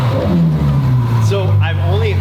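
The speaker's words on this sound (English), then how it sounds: "this thing sounds like a V12" The V12 engine of a 2014 Ferrari F12 hums at a steady low idle, then rises in pitch as it revs. The engine is up close, with voices talking over it.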